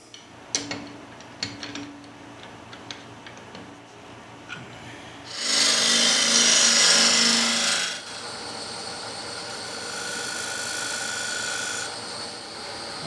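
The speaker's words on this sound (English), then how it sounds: "chuck it up and begin on the center section. I'll just hollow it out for the shape I want" Wood lathe tool cutting into a spinning wooden utility box, starting with scattered light scrapes, then a loud sustained hollowing roar for a couple of seconds, easing to a steadier softer cut.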